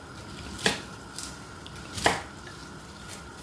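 A knife slicing the tough skin off a whole pineapple on a cutting board, two distinct chopping cuts with a few softer scrapes between, close and fairly crisp with no talk.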